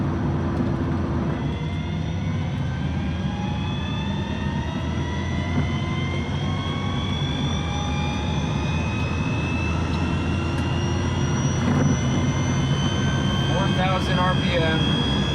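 A 1975 Volvo 164 converted to electric drive cruising in fourth gear at about 80 km/h, giving a steady whine with rising tones over road and drivetrain rumble that continues throughout.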